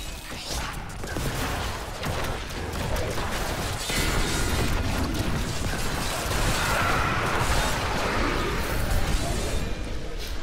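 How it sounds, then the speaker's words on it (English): Explosions in Diablo 3, played as a Necromancer, pile into a continuous, dense roar of booms, crashes and bursts. The din stays loud and unbroken throughout, with no clear gaps. "So many explosions."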